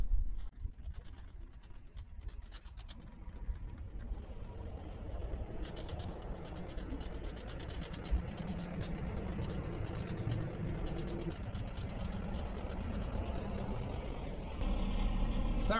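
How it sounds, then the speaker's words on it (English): Parking lot construction work outside a marine museum in East Selkirk, Manitoba: a continuous low rumble of heavy machinery with scraping and clatter, moderately distant, growing denser partway through and louder near the end. "Sorry for the construction noises, they're getting their parking lot done up."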